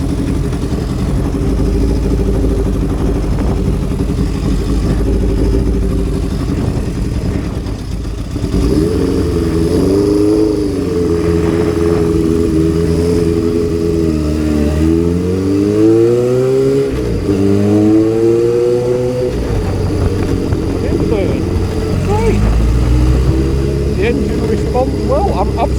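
Honda CB750 cafe racer motorcycle pulling away, its engine note rising and falling through several gear changes as it accelerates, loud and close for most of the stretch.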